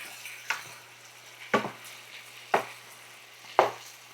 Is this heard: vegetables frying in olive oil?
yes